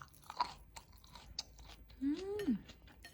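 Crisp crunching and chewing of crispy food at a home dinner table with kimchi stew and side dishes, a few close bites followed by a short hummed vocal sound.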